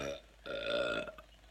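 A single deep, drawn-out burp from someone eating a crunchy salad, close and clear, preceded by a short low rumble and trailing off with a small click.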